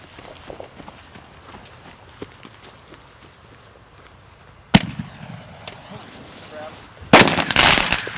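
New Year fireworks explode outdoors with one sharp crack midway, then a louder crackling burst near the end, over faint background noise.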